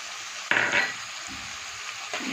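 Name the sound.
stirring green peas into frying curry in a kadai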